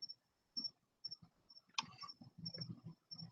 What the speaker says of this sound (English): Yeah, sorry about the crickets.